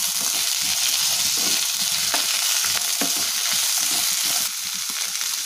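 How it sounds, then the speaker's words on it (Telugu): Snake gourd, green chillies and tomato fry in a pan, a loud, steady sizzle with a utensil stirring and scraping through it, close up and with no voices. "పొట్లకాయ, పచ్చిమిర్చి, టమాటా అన్నీ బాగా ఫ్రై అయ్యండి"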